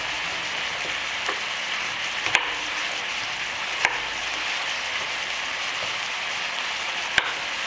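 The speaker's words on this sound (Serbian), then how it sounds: "Dok se luk i meso prže" Onions and meat fry together in a pan with an even, steady sizzle, broken by a few sharp clicks of a utensil against the pan at irregular intervals, with no voices.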